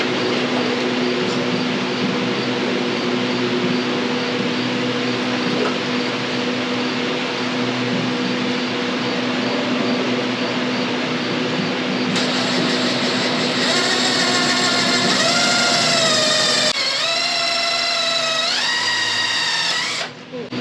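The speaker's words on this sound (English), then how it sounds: "So now I'm going to take my small quick connect drill bit and put it on here and drill a pilot hole" A power drill with a small quick-connect bit whines steadily while drilling a pilot hole for a bump stop fix, its pitch rising and shifting near the end as the bit bites in, with a faint constant hum underneath.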